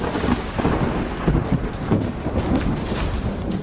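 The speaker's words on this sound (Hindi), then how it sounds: "बारिश का प्रहार" Heavy monsoon rain pours steadily during flooding in Mumbai, with a dense hiss of downpour and rumbling thunder rolling beneath it, loud and continuous with no talking.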